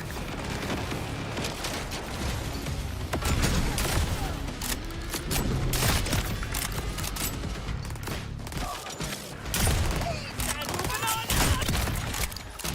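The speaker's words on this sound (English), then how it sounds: "I'm about to just shotgun them all." Shotgun blasts in the game Borderlands 4, repeated loud booming shots at irregular intervals among a busy mix of gunfire and explosions, with a voice talking now and then.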